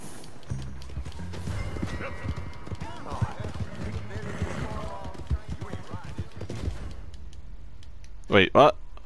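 Steady clip-clopping of horse hooves in the video game Red Dead Redemption 2 runs under someone talking, ending with a loud horse whinny near the end.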